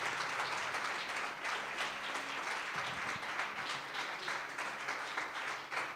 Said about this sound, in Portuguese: Queria você rapidamente se aplaudisse a Jesus em nome de Jesus Cristo